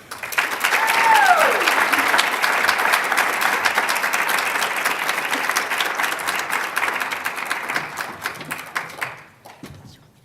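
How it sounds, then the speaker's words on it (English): Sustained, dense applause from an evening audience welcoming two chef speakers, loud and steady for about nine seconds before tapering off, with a brief rising whistle or cheer near the start. "Please join me in a round of applause to welcome Bernadette and Clayton."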